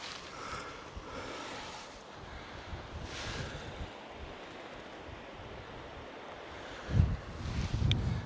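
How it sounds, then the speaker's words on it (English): Wind gusts across an exposed coastal hillside in steady rushing buffets against the microphone, growing louder and more blustery toward the end. "Feel the wind picking up as we get higher."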